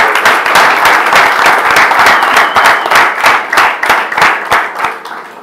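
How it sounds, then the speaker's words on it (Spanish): Loud, close applause from an audience at a talk, individual hand claps clearly distinct within a brisk, continuous clapping that stays strong throughout. "Un aplauso"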